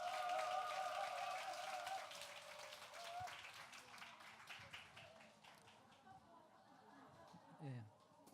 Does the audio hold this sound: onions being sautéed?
no